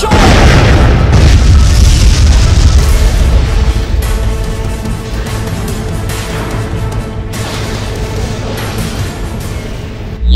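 Grenade explosion in a Free Agents game, a loud close boom that rolls into a long, dense rumbling wash of debris and noise which slowly fades over several seconds.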